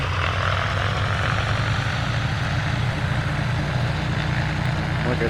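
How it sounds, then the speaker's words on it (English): Simulated Cessna T210 turbocharged single-engine propeller plane in a flight simulator game, a steady loud droning engine hum with a low throbbing tone that holds even throughout. "I do like the sound of the plane. It's not the same, it doesn't sound the same to me as the Cessna."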